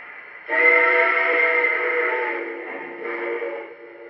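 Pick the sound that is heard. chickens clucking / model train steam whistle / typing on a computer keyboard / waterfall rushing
model train steam whistle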